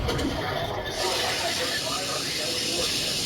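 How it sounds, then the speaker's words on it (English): Food sizzles loudly on a grill in a Chipotle ad, a dense continuous hiss that fills the whole stretch without a break. "That sizzle, that's the soundtrack of Chipotle."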